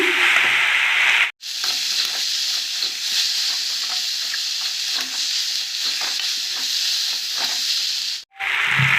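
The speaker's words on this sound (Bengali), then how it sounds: "তো ভালো করে এবার কষে নিচ্ছি সব রকম মশলা দিয়ে" Taro stolons (kochu loti) sautéing with salt, turmeric and chili powder in a pan, giving a loud, steady sizzle and hiss that runs unbroken apart from two brief drops in sound.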